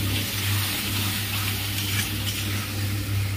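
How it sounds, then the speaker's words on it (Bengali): A paste of ground cashews and raisins is stirred in a pan and gives off a soft, continuous sizzle with a faint scraping texture. A steady low hum from the kitchen runs underneath. "দিয়ে দিলাম, দিয়ে এবার নাড়বো।"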